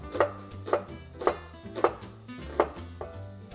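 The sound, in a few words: knife slicing a peeled onion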